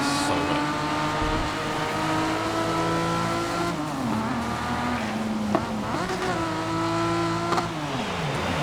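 A race car driving on a wet, rain-soaked track in GRID 2019, its engine holding a steady loud drone with shifting pitch as it brakes and accelerates, plus brief knocks, continuous and without talk.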